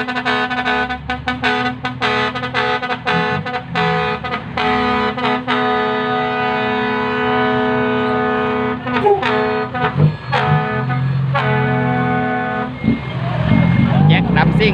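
A Hino dump truck backs up, its loud repeating reversing beeper sounding in steady pulses over the engine's drone at a dump truck charity gathering, with someone talking over it throughout.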